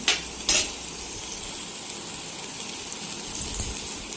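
Shallots sautéing in a pan for a spicy chicken gravy, with a steady soft sizzle throughout and two brief louder scrapes of stirring near the start and end.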